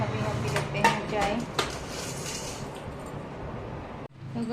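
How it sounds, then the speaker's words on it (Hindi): Dishes, pots, pans and cutlery are washed in a full kitchen sink, with scattered clinks and clatters of metal and crockery over a steady wash of running water, fairly close. "धुल चुके हमारे बर्तन, देखो इतने सारे थे। सिंक बिल्कुल भरा हुआ था ऊपर तक"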